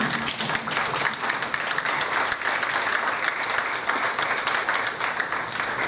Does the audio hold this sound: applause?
yes